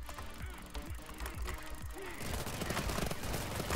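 A spinning-barrel gun fires in the video game Fear and Greed as a dense, continuous rattle of rapid shots that grows louder and harsher partway through, with a few intermittent shots before that.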